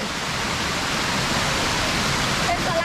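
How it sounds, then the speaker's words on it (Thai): Waterfall splashing into a hotel swimming pool in Phuket, a steady, dense rush of falling water that stays loud and even throughout. "มีน้ำตกด้วย"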